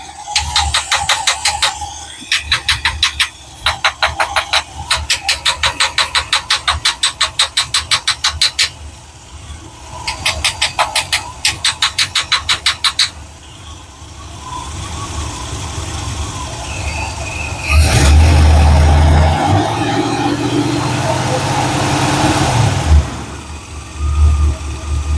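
A Square Body Chevy hotrod engine with a starting problem cranks in repeated rapid bursts, then catches and idles roughly, rising in a loud rev before sputtering as it tries to die.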